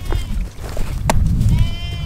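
A goat bleats briefly among low, rumbling outdoor noise, with a short nasal call standing out in the middle.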